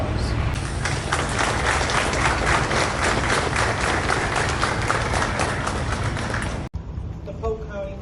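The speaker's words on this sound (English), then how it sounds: "I ask the members to please rise so that the community may thank you with their applause." Community members at a memorial ceremony applaud fire and police department members, a loud, dense, sustained clapping from a large crowd that cuts off abruptly near the end, followed by a quieter pause with faint voices.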